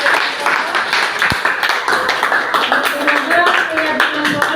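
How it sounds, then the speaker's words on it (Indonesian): A school class claps hands in a classroom, a burst of uneven clapping close by, mixed with voices talking and a sharp knock partway through. "Oke, beri tepuk tangan."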